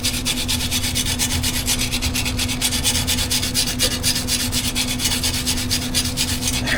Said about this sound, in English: Scrub this off some.